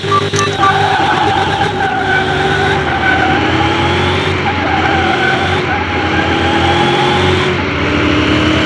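A Mustang races a GTR in Car Mechanic Simulator 2021, with continuous loud tire skidding and squeal over a steady, droning engine note that shifts pitch as the car accelerates.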